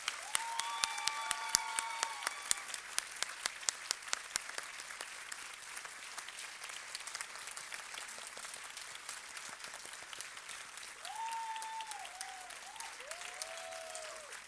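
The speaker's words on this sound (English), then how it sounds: "Once more, grade 1 team, a big round of applause for each one of you." Audience clapping for a grade 1 teaching team at a school workshop, sustained crowd applause with sharp close claps early on, while a few whistles or cheers rise over it near the end.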